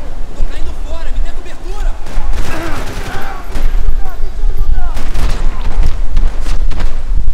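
Dense gunfire and booming explosions from the Max Payne 3 video game, a chaotic shootout in a police station with rapid shots and blasts over constant background noise.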